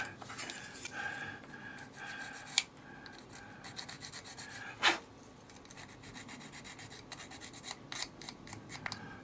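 A cardboard nail file rasps steadily against a small wooden windmill model during reshaping, giving close, continuous scratchy rubbing strokes with a few sharper knocks, alone without talk.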